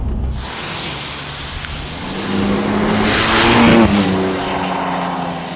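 A BMW F80 M3 with an Akrapovic exhaust and stage 2 tune accelerates hard on a wet road, its loud engine rising into a roaring, raspy exhaust note that swells and holds close by.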